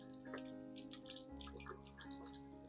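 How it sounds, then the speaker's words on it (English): Water from a tap gently rinses over ZZ plant stems and base, a soft steady trickle with light splashing under a low hum of background tones. "When washing, gently rinse water over the entire stem and base"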